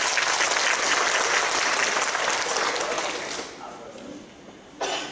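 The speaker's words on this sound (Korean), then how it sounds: "우리 한 번 더 박수하겠습니다" An audience at a church gathering for an elderly welfare association applauds an arriving guest, dense steady clapping that fades out toward the end before a brief sharp noise.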